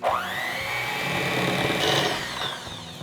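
An electric hand mixer creams butter and sugar, with a steady, close motor whine that rises in pitch at the start and holds level for a few seconds, with a slight strain partway through.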